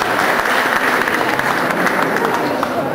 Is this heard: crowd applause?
yes